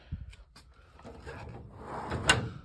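A quick metallic slide and clunk as a drawer rolls open on a vintage, somewhat rusty Mac Tools tool box, ending in a sharp little rattle, close by and brief.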